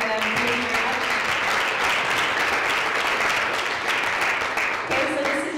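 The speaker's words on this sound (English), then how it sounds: "if we could please have a special applause for them" An audience applauds panelists at a community forum on gentrification in Los Angeles, steady dense clapping filling the room throughout, with voices faintly audible underneath.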